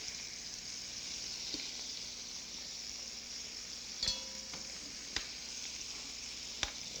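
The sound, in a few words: lamb pieces browning in a frying pan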